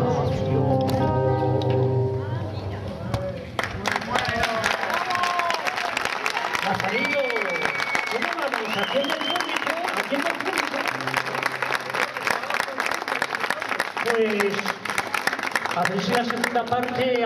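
Sustained audience applause at a folk song performance in Ciñera fills the room, dense and steady throughout, with a voice talking over it at times.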